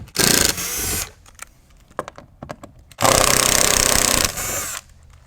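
A power screwdriver whirs loudly in two long bursts as it backs screws out of an interior panel on a 2019 Toyota Tacoma, with light clicks and handling noises between the runs.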